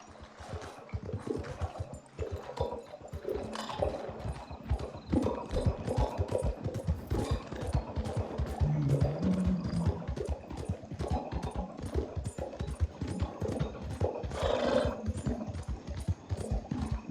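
Horses gallop in Red Dead Redemption 2, with dense rhythmic hoofbeats running steadily throughout at a fairly loud, close level and no talk over them.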